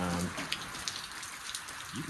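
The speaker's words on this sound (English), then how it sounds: "might not be fun to come outside when it's raining" Steady rain patters and hisses outdoors, a continuous wash of drops with a few louder splats close by.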